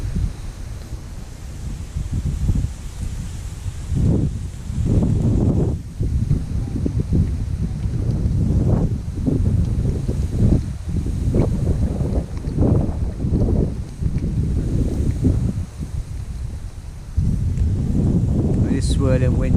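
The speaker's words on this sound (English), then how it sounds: "This swirling wind's making the presentation quite difficult." Gusty, swirling wind buffets an outdoor microphone on a fishing bank, a loud low rumble that surges and fades in uneven bursts throughout, with someone talking intermittently underneath.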